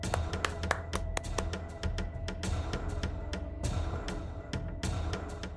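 A group claps during a scene in a Marathi TV serial: quick, irregular hand claps that stay fairly soft and continue steadily throughout.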